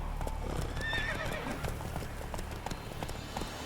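Roach, the horse in The Witcher 3, gallops with rapid, close hoofbeats, and a sharp whinny rises partway through before the pounding rhythm continues.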